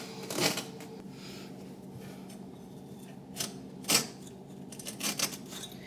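Carpet and its mesh backing being cut through, with several short, rough tearing and snipping bursts separated by quieter pauses, close and moderately loud.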